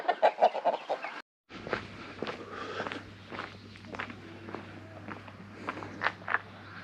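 Chickens cluck in quick bursts close by in a village in Sinop, Turkey, with footsteps crunching along between the clucks and a low steady hum in the background.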